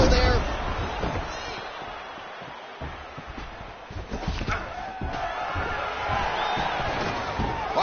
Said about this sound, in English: Nice pop there from the crowd as he finally gets the takedown